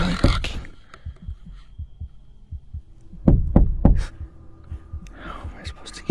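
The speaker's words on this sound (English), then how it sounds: "you can hear the man knocking" Man knocking on a truck: a few dull heavy thuds, a cluster of three louder knocks in the middle, muffled and close, amid quiet background hum with faint voices.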